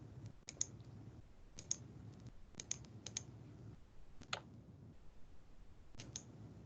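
A computer mouse clicks close by in scattered sharp, dry taps, some single and some in quick pairs, over a quiet room with no talk.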